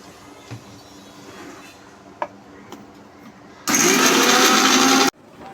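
A few faint clicks come first, then a mixer grinder bursts into a loud, steady whirring roar for about a second and a half, grinding five green chillies with a little water into paste, and stops abruptly.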